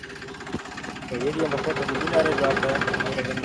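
A tractor engine chugs steadily nearby, a low rhythmic mechanical drone that grows slightly louder and continues throughout.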